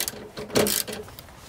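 A swivel seat in a Mercedes Sprinter van clicks back down, a short burst of faint mechanical ratcheting clicks, quiet and close, with a few lighter ticks afterward.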